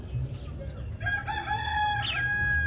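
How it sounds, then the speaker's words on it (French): A rooster crows clearly, one long rising and falling cock-a-doodle-doo at moderate distance, starting about a second in and holding to the end over a low background hum. "Un coq qui réveille déjà à quelle heure?"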